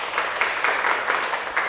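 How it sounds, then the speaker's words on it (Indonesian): A small classroom group applauds a presenting team, a short burst of dense, fairly close clapping with slight swells in intensity throughout. "Tepuk tangan buat kelompok 1."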